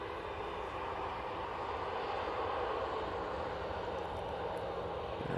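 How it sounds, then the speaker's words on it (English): Aegean Airlines plane arriving from Athens at Manchester Airport, a steady broadband jet roar holding at an even, moderately loud level throughout with no voices. "We do have an arrival. It's the Aegean coming in from Athens."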